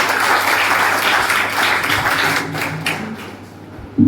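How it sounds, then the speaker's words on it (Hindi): An audience at a drama workshop event applauds loudly, dense clapping that thins out and fades toward the end before a brief thump. "तो जोरदार ताली।"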